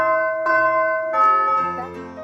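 Tower bells ring out with clear, sustained metallic tones, several pitches overlapping and changing as new strikes layer over the fading ones.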